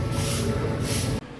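Steady rain pours outdoors in the Philippines as a dense, loud hiss that fills the background and then cuts off sharply near the end.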